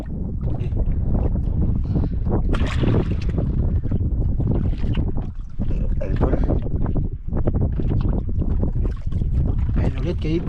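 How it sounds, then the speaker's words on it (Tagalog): Strong wind buffets a small fishing boat out on open water, a loud continuous roar and rumble of gusts and water that fills the whole stretch, with people talking throughout. "Lumalakas ang hangin idol. Malakas yung hangin."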